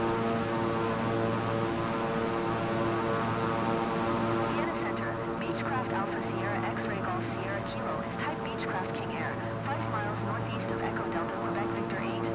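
A Beechcraft King Air turboprop in Microsoft Flight Simulator 2024 drones in flight, a steady engine hum with tonal bands holding level throughout, with faint clicking ticks over the second half.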